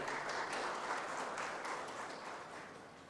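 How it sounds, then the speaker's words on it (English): An audience at a university gathering gives a warm round of applause to welcome the chief guest, a steady, faint wash of many hands clapping that slowly tapers off. "So with a warm round of applause, please help me welcome our Honorable Chief Guest"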